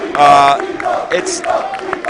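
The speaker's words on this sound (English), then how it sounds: "The crowd chanting EVO." At the EVO 2013 fighting game tournament, during Super Street Fighter 4: Arcade Edition top 8, a large crowd chants 'EVO' in loud, voiced bursts, with a strong swell near the start followed by a few shorter rises.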